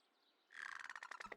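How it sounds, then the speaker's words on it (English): A crow in the video game Kentucky Route Zero gives an agreeable caw, a rough, raspy call breaking into a quick run of pulsing notes after a quiet start, close and fairly loud with no voices. "An agreeable caw."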